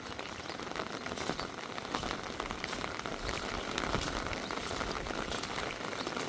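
Heavy rain pouring all night and day, flooding over rice paddy embankments; a dense, steady roar of rainfall on surfaces with scattered drop impacts, loud and continuous throughout.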